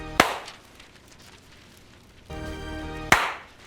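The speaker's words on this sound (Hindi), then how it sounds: "इसलिए ट्रांजिशन वाली ताली बजा देते हैं।" Two sharp, close hand claps, one near the start and one near the end, separated by quiet with a faint buzzing hum in between.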